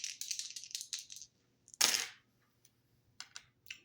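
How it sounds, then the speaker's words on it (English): Small dice rattle and clatter briefly in a quiet room, a burst of quick clicks followed by a sharper tumble and a few scattered taps as they settle. "rolling the dice to see what I need to shuffle the deck to"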